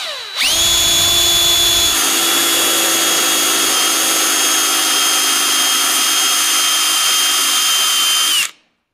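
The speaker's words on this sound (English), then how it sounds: "So step one, let's drill these holes." A power drill bores holes through a warning sign while limit switches are fitted for a mill's up-down power feed, running as one steady, loud, high whine for several seconds before cutting off abruptly.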